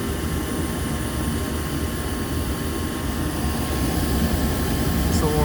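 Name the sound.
natural gas furnace burner firing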